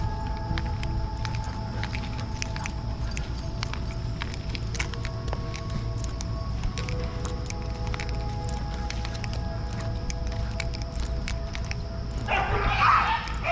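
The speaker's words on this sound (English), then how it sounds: "It's just dogs being dogs." Several dogs in an all-female pack bark, yip and whimper throughout while playing and jumping on one another, fairly close, with a person's voice occasionally underneath and a brief scuffle of movement near the end.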